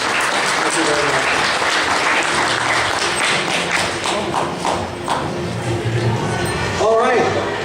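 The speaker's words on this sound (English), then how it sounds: "And one more round of applause for Evil Queen Cosplayer" An audience at the Kraken Con 2014 costume contest claps in a long, dense, loud burst of applause that fills the room, easing slightly midway before swelling again.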